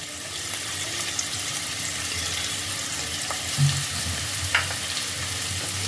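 Two medium onions, finely chopped, frying in hot oil for dhaba-style matar paneer, a continuous close sizzle with a few soft stirring knocks.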